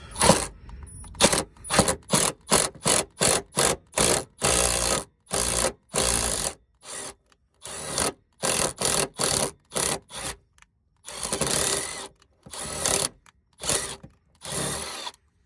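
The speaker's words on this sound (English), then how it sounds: "take our handy dandy certified tapping machine" A tapping machine cuts threads for a bolt in a series of short, loud mechanical whirring bursts separated by brief silences, running in an irregular rhythm at close range.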